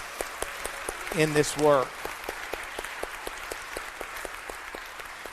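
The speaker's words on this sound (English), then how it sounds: "could we have an extra round of applause for Al and Hannah and everything that they do" A church congregation applauds volunteers Al and Hannah, a steady patter of many hands clapping through the whole stretch, with a voice speaking briefly over it near the start.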